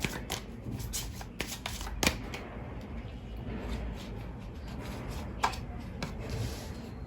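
Tarot cards shuffled and drawn by hand, a steady papery rustle with sharper flicks and snaps scattered throughout, close and continuous with no speech.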